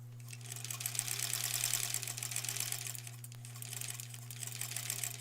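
A domestic sewing machine stitches foundation paper pieced quilt blocks, a quiet steady rapid needle chatter over a constant low motor hum, running continuously and alone.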